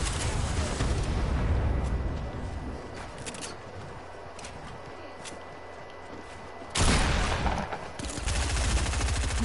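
Rapid SMG gunfire in a video game, dense bursts of fast shots crackling continuously, dropping to quieter sporadic fire mid-way before a loud renewed burst near the end.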